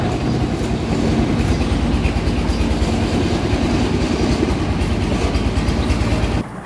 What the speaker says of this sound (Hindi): यहाँ ट्रेन गुजर रही है